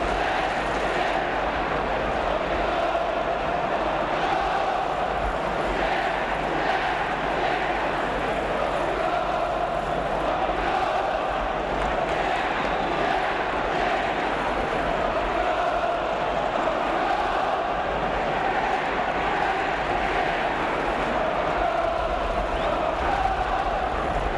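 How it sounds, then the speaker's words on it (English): Arsenal supporters in a packed stadium crowd at the 1969 League Cup final against Swindon Town, a steady broad roar of cheering and noise that holds throughout, loud and continuous. "a certain relief mingled with the joy in that crowd of Arsenal supporters"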